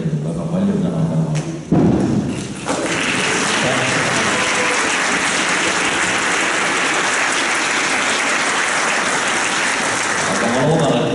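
An audience at a Christmas concert gives dense, sustained applause that swells after a few loud thumps and some speech at the start, then holds steady as a continuous roar of clapping.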